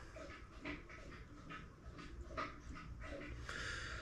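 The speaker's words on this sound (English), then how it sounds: "If you can hear my dog" A dog pants heavily nearby, rapid rhythmic huffing breaths with a few soft whimpers, quiet and close throughout.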